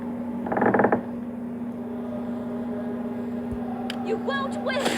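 A wooden door creaks open in the Neverwinter Nights game: a short raspy creak early on, then clicks and a few brief metallic rattles over a steady background hum, with no one speaking.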